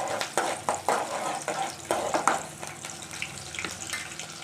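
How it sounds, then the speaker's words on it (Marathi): Onion and chili frying in a pan for a morning tiffin, a steady moderate sizzle with a few soft clinks and stirring scrapes throughout, no voices. "मग मी असंच लगेच फ्राय करत आहे."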